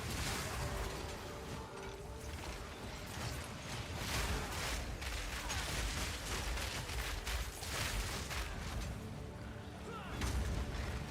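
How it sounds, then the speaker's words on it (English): Rumbling booms and artillery-like blasts from a video game battle, a dense, continuous barrage of explosions with low rumble, somewhat distant and steady throughout. "they got enough explosions going off over there?"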